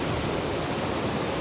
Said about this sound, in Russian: за счет сильного ветра сегодня здесь сильные волны